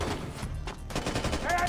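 Dense rapid gunfire from a control turret in Splinter Cell: Conviction, loud and continuous across the whole moment, with a brief dip in the middle, and faint talk underneath.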